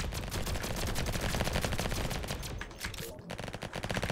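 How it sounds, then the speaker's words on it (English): A raygun in the Roblox game Flag Wars fires rapidly in a dense, continuous stream of electronic zapping shots, loud and steady, then breaks off briefly before resuming in quicker bursts. "Okay, so this gun actually has a fast fire rate."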